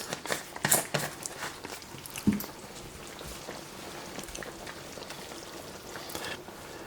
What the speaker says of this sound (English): let me get this all stirred up real quick